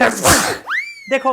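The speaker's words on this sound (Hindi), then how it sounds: "छींक भी आ गई मुझे" A single close, loud sneeze bursts out at the start, followed by a brief spoken word.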